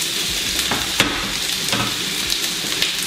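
Vegetable oil sizzles steadily in a pan as potato scones fry, a constant crackling hiss with occasional sharper pops and light stirring taps, close by with no talk.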